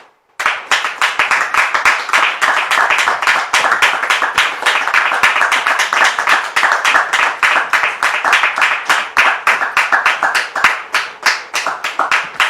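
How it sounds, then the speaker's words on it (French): Audience at a church gathering claps to welcome a pastor onto the stage, a loud, steady, rhythmic round of hand claps that continues evenly throughout. "je vous demande ici maintenant de recevoir le pasteur Donald sous vos applaudissements"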